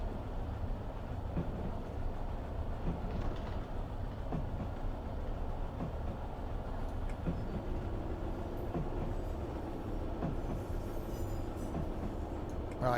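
A Class 156 diesel multiple unit running in Train Sim Classic on the Glasgow to Mallaig line, a steady low rumble of engine and wheels on track continuing evenly throughout, close and constant.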